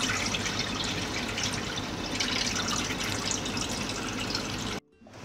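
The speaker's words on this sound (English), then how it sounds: "I put a lot of water in, washed it, and I just poured that out." Rinse water from washed basmati rice poured out steadily, a continuous splashing, trickling flow close by that stops abruptly near the end.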